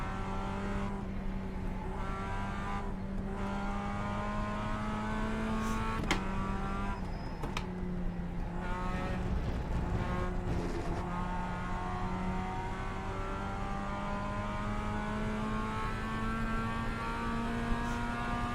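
A small Mazda race car in the iRacing sim, its engine holding a steady, loud drone throughout, with brief pitch dips around gear changes partway through and a continuous buzzy whine over low rumble.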